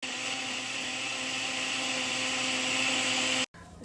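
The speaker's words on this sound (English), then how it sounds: "I'm sure you know how to use a blender" A blender whirs steadily, loud and close, as it purees a yellow pepper sauce, then cuts off abruptly near the end.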